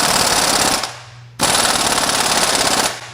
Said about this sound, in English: Let's get the big old impact on it.